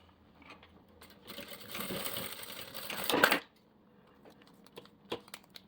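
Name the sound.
sewing machine stitching a zipper on a half-moon pouch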